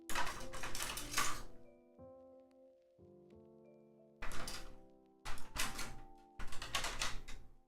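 Rapid clacking keystrokes on a WindX65 gasket-mounted mechanical keyboard, loud and close, in two dense bursts separated by a quieter stretch with faint sustained tones.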